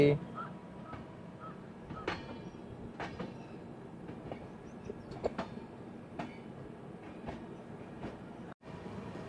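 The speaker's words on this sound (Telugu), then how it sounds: "సిమిలిగూడ నుంచి అయితే మన ట్రైన్ డిపార్చర్ అయిపోతుంది" A Visakhapatnam–Araku passenger train with a vistadome coach rolls out of Shimiliguda station with a rhythmic clickety-clack of wheels and occasional sharp clanks, while a voice speaks over it.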